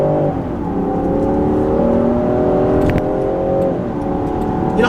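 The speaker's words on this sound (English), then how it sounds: "Let's do a little acceleration here." A Land Rover Defender 130 with the P400 3-liter mid-grade engine accelerates steadily, its engine note rising and holding as a loud, continuous whir close up with no talking.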